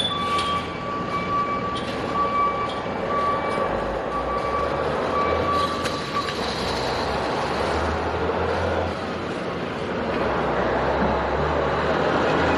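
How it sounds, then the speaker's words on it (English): A giant truck maneuvers at a Minneapolis rally for justice, with a steady reversing beep and a low engine rumble amid continuous crowd and street noise, heard from fairly close. "They're bringing this giant truck in."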